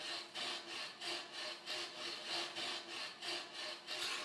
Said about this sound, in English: With the fret saw, they then cut out the negative spaces in the image.